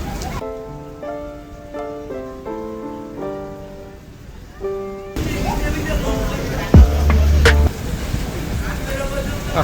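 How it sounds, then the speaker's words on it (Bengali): Heavy rain at a river launch terminal in Barishal, a dense steady roar of rain on surfaces in the second half, preceded by a tonal musical passage, with a brief sharp knock near the middle. "কঠিন বৃষ্টি হচ্ছে কঠিন"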